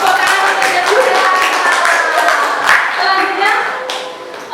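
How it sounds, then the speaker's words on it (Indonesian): Applause in a classroom, with a group clapping in quick, uneven bursts and voices chattering over the sound, close and fairly loud throughout. "Tepuk tangan saja sudah."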